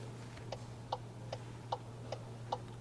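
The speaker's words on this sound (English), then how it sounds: "Blinker rechts an." Mercedes turn signal indicator ticking steadily, about six even clicks at roughly two per second, quiet over a low cabin hum.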